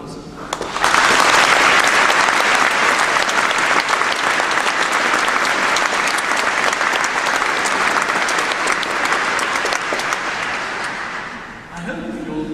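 A large audience at a university graduation ceremony gives a loud, sustained round of applause, starting abruptly and holding steady for about ten seconds before fading, followed by a few remaining claps and a voice resuming.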